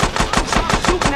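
Rapid gunfire from GTA San Andreas rattles out in a quick burst of about seven sharp, evenly spaced shots, loud and close, with no talking.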